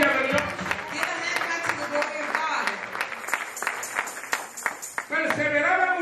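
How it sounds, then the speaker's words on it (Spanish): A church congregation claps to praise God during a Spanish-language sermon, a steady, sustained round of clapping mixed with voices and music. "Den un aplauso a la gloria de Dios"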